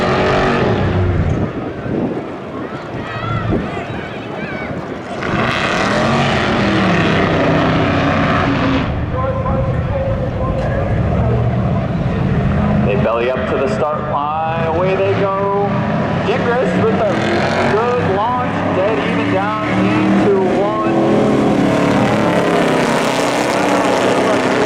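Race cars roar through spectator drag runs at Seekonk Speedway, including a Mustang and a Ford. Loud, sustained engine noise rises and falls as cars pass, with an excited commentator talking over it.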